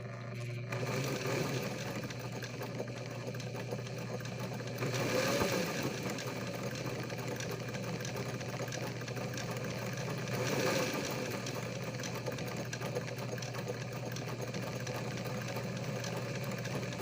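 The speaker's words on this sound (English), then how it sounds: "I put a zigzag down the bias tape strips" Sewing machine running a zigzag stitch along bias tape strips for a tarp cover on a playpen, a steady continuous motor hum with slight surges, moderately loud and heard alone.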